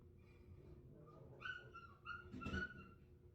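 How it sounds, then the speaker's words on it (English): Dogs outside whimper and then bark, with soft whines building into a few sharper yips and barks, heard faintly at a distance. "dogs are being sassy outside."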